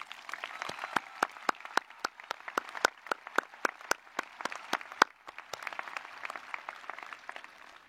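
An audience applauds a performer at an evening recital with a steady patter of separate, crisp claps from a modest crowd, lasting several seconds with a brief dip near the end.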